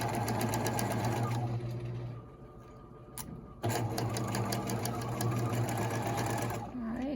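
Sewing machine stitching a mini wristlet wallet, a loud, close, steady whirr of rapid stitches that pauses briefly in the middle and then resumes at full speed.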